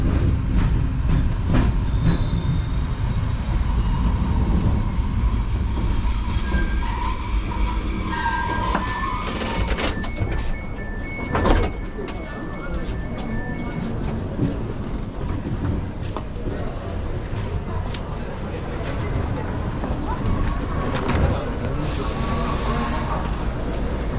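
A Romanian long-distance train hauled by a CFR Class 64 diesel-electric locomotive rolls into Cluj-Napoca station, with rumbling wheels, drawn-out brake squeals and clatter as it slows, and people talking in the background.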